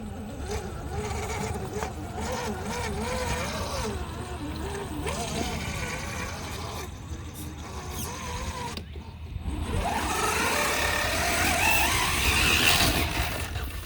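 A 1/5th scale RC crawler driven by a 997 brushed motor on 36 volts whines and revs up and down close by, with splashing as it drives through water, louder and busier toward the end.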